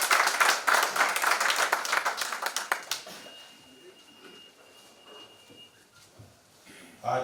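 Audience applause welcoming a speaker at a Hindi literature conference in an auditorium, a dense burst of claps for about three seconds that thins out and fades into quiet room noise.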